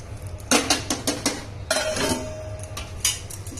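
A lid clatters onto a pan of simmering okra masala, giving several sharp metallic knocks and a brief ringing scrape, loud and close with no voices.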